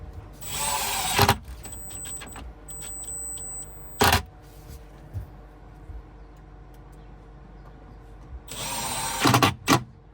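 A power drill drives screws into a Lamborghini's beams, with two bursts of whirring at the start and end and sharp clicks and clanks of tool handling in between, all close and without speech.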